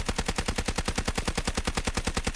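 Rapid, continuous automatic fire from an SMG-45 submachine gun in the Delta Force video game, a steady stream of evenly spaced loud shots over roughly two and a half seconds.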